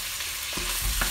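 Sausage sizzles steadily in two frying pans, with a close hiss throughout and a few scraping, clattering stirs near the end.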